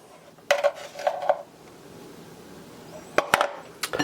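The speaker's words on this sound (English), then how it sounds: "Just going to give that a nice mix together." A utensil clinks and scrapes against a dish while onion powder, salt and black pepper are mixed together, in two short bursts of clattering separated by a quiet pause.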